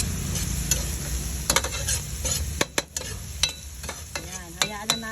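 Black pepper sautéing in a hot pan while ginisang pechay is being started, a steady close sizzle broken by sharp scraping stirs and clinks of the utensil against the pan.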